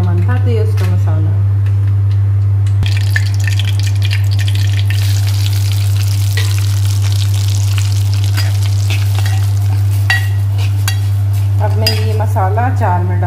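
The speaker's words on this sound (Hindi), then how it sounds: "अब अच्छे से तेल गर्म हो जाए तो मैं तेल इस अचार में डालूंगी" Hot oil is poured into a mango pickle and sizzles steadily and loudly under a constant low hum, with occasional metallic clinks and a voice speaking at the start and end.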